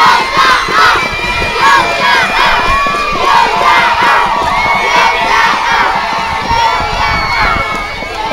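Children at a school spring-day celebration shout and cheer together, a loud, sustained crowd roar with overlapping high-pitched cries and no pauses.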